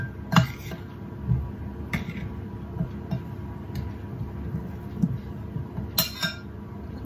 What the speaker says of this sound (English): I'm just going to toss them in this flour mix